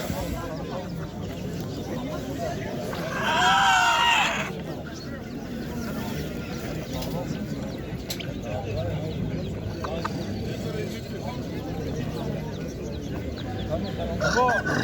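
Chickens cluck steadily amid a busy chicken market crowd in İzmir with people talking, and a rooster crows loudly once partway through.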